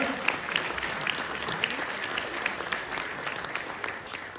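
An audience at a village salami festival gives steady, moderately loud applause. Individual claps are clearly audible through the continuous patter, which fades slightly toward the end.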